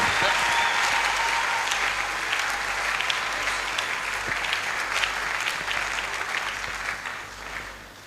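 A church congregation on a Sunday morning applauds to welcome the pastor, with dense, sustained clapping from many hands that fills the room and tapers slightly at the end.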